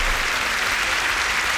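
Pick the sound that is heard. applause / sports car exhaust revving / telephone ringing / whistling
applause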